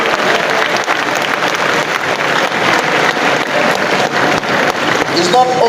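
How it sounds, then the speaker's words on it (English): An audience claps energetically at a Lagos gathering, a broad steady patter of many hands with crowd murmur mixed in, ending with a brief tonal sound near the close. "If truly you've been blessed in Lagos as a state, clap for this is Lagos."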